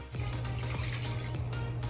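Water pours steadily from a tap, a continuous near splash and trickle while cooking mutton biryani with turmeric, with no voices.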